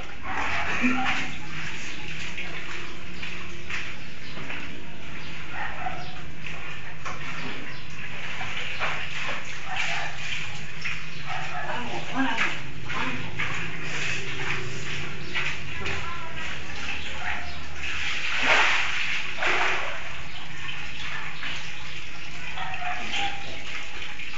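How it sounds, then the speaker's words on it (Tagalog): Floodwater overflows and splashes in Tomana East: a continuous, fairly loud rushing, gushing wash with scattered sloshing bursts, close by and sustained, with people talking over it. "Yung tubig, kumapaw."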